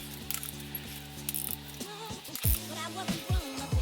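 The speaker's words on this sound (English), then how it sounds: "now we're going to torque them all down to 30 foot-pounds again" Torque wrench ratcheting on Mazdaspeed engine rod bolts during a rod bearing and piston install, a steady run of rapid clicks in the first half followed by a few short, louder ratchet bursts, close up with no talk.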